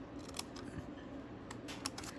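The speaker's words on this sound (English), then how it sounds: "we'll come down here and just cut that out" Scissors snip through paper while a small mini album is being made, several crisp cuts and light clicks of the blades spread over a soft, steady background.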